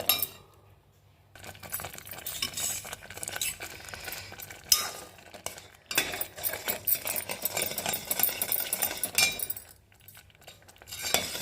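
Wooden ladle scraping and clinking in a pot of thick kali batter being stirred to dissolve lumps, a steady continuous rasping and knocking with brief pauses.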